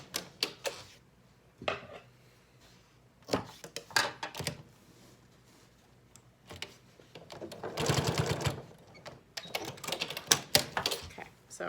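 Sewing machine stitching Yup'ik qupak pieces in short whirring bursts with clicks and pauses, one longer run in the middle, and someone talking between stretches.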